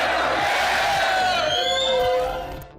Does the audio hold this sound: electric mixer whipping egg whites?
no